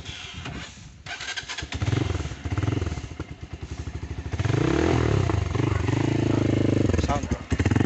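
A 2024 Motorstar Cafe 150 motorcycle engine cranks with a few uneven bursts, then catches and settles into a steady, loud idle with a rhythmic chug and clatter close by. Someone speaks over the start.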